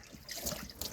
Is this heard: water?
yes